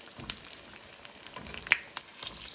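Vada pav vadas frying in oil, a faint, soft crackle with a few light pops and spatters, quiet and fairly close.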